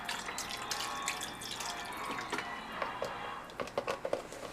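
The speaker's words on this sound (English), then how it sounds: "I'm going to go ahead and add my broth, about a cup's worth." About a cup of chicken broth poured into a crock pot already holding coconut milk, a soft, close trickle and splashing, quiet and brief with a few drips at the end.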